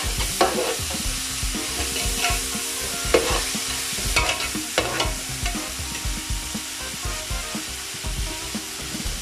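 Garlic ginger paste sizzles loudly in a hot pan and is stirred with repeated scraping strokes. The frying hiss runs steadily under the stirring, and no one speaks.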